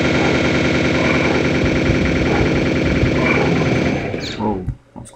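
Gunfire from a weapon in the video game Quake Aftershock: a loud, dense, continuous stream of rapid shots that cuts off abruptly near the end, leaving faint trailing echoes.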